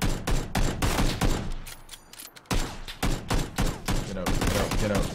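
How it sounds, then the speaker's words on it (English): Rapid bursts of gunfire from the video game PLAYERUNKNOWN'S BATTLEGROUNDS on the Erangel map, loud sharp shots fired in quick rhythmic clusters with a brief lull near the middle before the volleys resume. "I'm just shooting at him"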